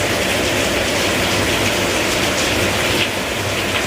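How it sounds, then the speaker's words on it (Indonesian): Heavy rain pours down in East Java during the rainy season, a dense, loud and unbroken roar with no voices over it. "masih hujan loh, deras ini musimnya sini hujan"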